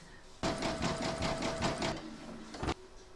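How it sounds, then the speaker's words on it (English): An embroidery machine runs a satin stitch around the hat of a large double-sided Santa applique. The close, busy stitching whirs steadily for about a second and a half, stops, and then a short second burst follows. "we're now going to stitch round number 7, and that's going to do the satin stitching around the hat"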